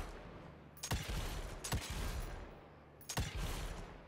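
Gunfire in the Evil West video game: three sharp, loud shots spaced about a second apart, each with a booming low tail, over a steady rumbling background.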